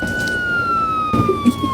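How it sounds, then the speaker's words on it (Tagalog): A police car siren sweeps steadily downward in pitch, loud and continuous, with a few short bumps and knocks in the last half-second and no talking. "Nagulat ako dun sa tunog ng pulis eh."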